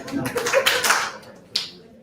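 A small audience at a book launch claps in two brief bursts, scattered hand claps close by, with a voice also heard in the room.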